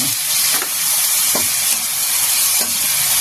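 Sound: stir-frying curry paste with fish sauce in a pan

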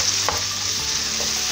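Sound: stirring and frying aderezo for chickpeas with spinach

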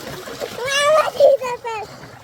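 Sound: fountain water falling and splashing on a child

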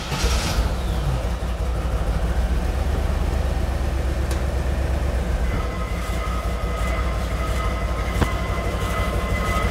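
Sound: old dream car engine starting and running

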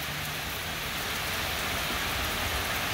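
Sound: rain falling on a rainy day

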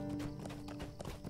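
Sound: horse hooves clip-clopping in the video game Lord of the Rings Online

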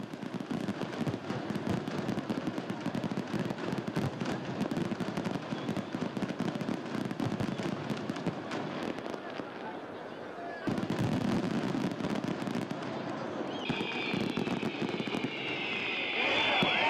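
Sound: fireworks exploding

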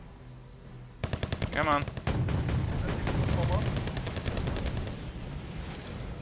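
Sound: gunfire from guns in video game Wargame Red Dragon

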